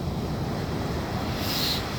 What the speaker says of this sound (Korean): 어, 입자가 이 모래 입자가 여기보다 좀 얇거든요. 그래서 이렇게 좀 소리가 다른데 야 오늘 파도도 거칠지만